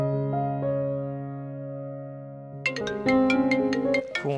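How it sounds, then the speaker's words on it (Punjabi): A mobile phone ringtone plays a sustained, melodic electronic tune, steady and clear, then turns busier and brighter with quick repeated chime-like notes toward the end, with no voices over it. "ਫੋਨ ਕਿਹਦਾ ਆ ਗਿਆ ਹੁਣ?"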